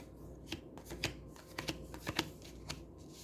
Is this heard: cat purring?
no